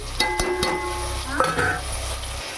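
Onions and tomatoes fry in a pan with a soft, steady sizzle, broken by a few sharp clinks and scrapes of a utensil stirring against the metal.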